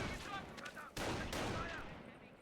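Gunfire rattles in the World War II strategy game Company of Heroes, with bursts of shots and impacts. The shots sound faint and mixed, and one sharp report lands in the middle.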